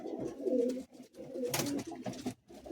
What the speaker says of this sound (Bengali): এইসব পায়রা সেলের মধ্যে আছে